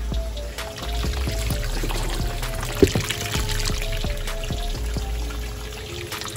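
Water pours steadily during a turtle tank water change as one tank drains and another fills, a constant close trickling stream with a brief splash partway through.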